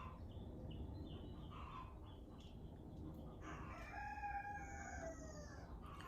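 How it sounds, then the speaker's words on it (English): A rooster crows partway through while chickens cluck softly, all somewhat distant over a steady background hum. "those chickens just start talking back."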